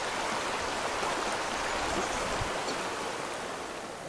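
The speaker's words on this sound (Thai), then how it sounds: "อันนี้จะเป็นน้ำตกที่ไหลลงมาจากภูเขานะ" Water from a mountain waterfall at Phu Pha Man in Khon Kaen pours down in a steady, dense rush that holds an even level throughout, with no voices.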